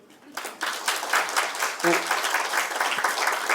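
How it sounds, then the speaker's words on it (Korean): An audience at a Korea University lecture on national biosecurity defense breaks into steady, dense applause that holds strong for several seconds, with a brief voice surfacing midway. "그 점에 동의하시면 박수 한번 치십시오"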